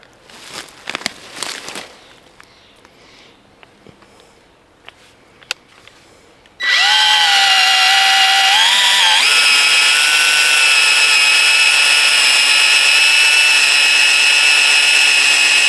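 Cordless power drill boring a tap hole into a big leaf maple tree, loud and close, with a high steady whine that dips as the bit bites into the wood, after a stretch of quiet handling and rustling.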